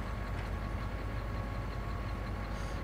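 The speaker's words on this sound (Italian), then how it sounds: "Oh, il treno, eccolo là." A train passing in a farming video game on the Alma Missouri map gives a steady, continuous rumble with faint rolling clatter, holding at an even level throughout with no talking.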